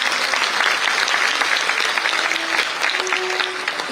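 Audience applause with a standing ovation at a Parul University event, following a heartfelt speech by the Health Minister. Dense, steady clapping from a large crowd fills the stretch from start to finish.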